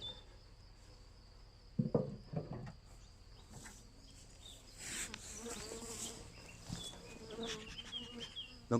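Honeybees in a hive colony, a dense, continuous buzzing of many insects close by with occasional louder passes and bumps, no talking.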